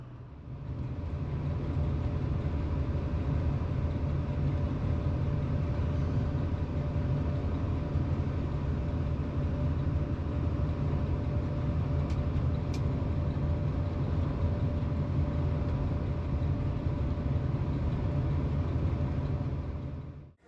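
Class 37 diesel locomotive running on HVO fuel near Barrow Hill Station, a steady low engine rumble with rolling rail noise, close and continuous for about twenty seconds before cutting off.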